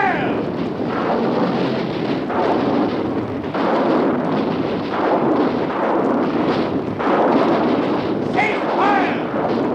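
Radio drama sound effect of artillery fire: a continuous, loud rumbling barrage of booms and blasts lasting throughout, with a voice briefly calling out over it.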